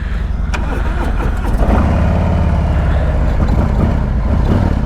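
The engine of a 2021 Harley-Davidson Road Glide Special motorcycle runs at a steady, loud, close rumble with a slight swell partway through, and no voices.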